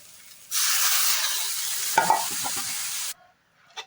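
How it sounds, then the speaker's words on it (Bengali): Water pours into a hot pan of frying dal and rice for pulao and bursts into loud hissing sizzle that holds for a few seconds, with stirring scrapes, then cuts off abruptly before a faint clink. "এবার আমি জল দিয়ে দেবো পরিমাণ মতো"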